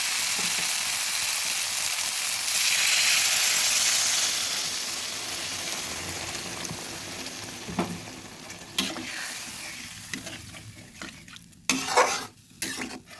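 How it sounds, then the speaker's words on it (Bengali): Spices for a katla fish curry fry with a loud hiss that swells and then softens as water is poured in, followed by scattered utensil taps and scrapes against the pot, with no talking. "সুন্দর মশলার সঙ্গে ভাজা হয়ে গেছে এবার দিয়ে দেবো জল"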